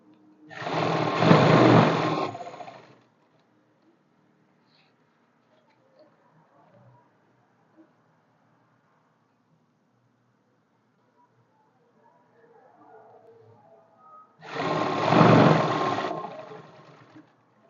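A sewing machine stitches straight trousers in two separate bursts of rapid, close needle clatter, each lasting a couple of seconds, with near silence and faint handling noises between them.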